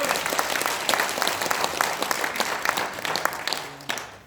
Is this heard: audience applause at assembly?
yes